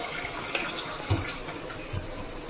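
Water is poured into a pan of fish gravy in a home kitchen, a short soft splashing and trickling with a few light knocks.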